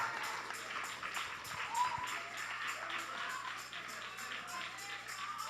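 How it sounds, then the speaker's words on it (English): A church congregation claps hands in praise during a Sunday service, a dense, sustained stream of rapid overlapping claps from a large crowd, moderately distant, with no talk over it. "So let's give God a great hand clap of praise, everybody"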